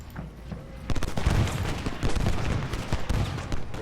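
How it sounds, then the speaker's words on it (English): Massed infantry gunfire crackles in a Civil War battle in Ultimate General: Gettysburg, with dense overlapping musket shots and low rumbling booms building into a sustained fusillade after a brief quieter start. "Nice shooting by Biddle."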